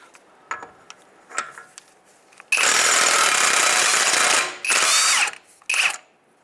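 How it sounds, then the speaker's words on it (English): A power tool spins off a 34 mm spindle nut from a Mazda CX-9 wheel hub in one long loud burst, then two shorter bursts, after a few light clicks and taps. "And now we're going to take off our spindle nut here"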